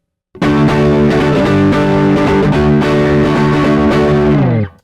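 Loud distorted electric guitar chords ring out for several seconds, a few changes strummed in sequence before cutting off abruptly.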